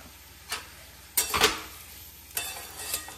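Oil in a wok with curry leaves, potato and onion is stirred and fried, giving a soft sizzle under a few distinct scrapes and clatters of a spoon against the pan, close and fairly quiet.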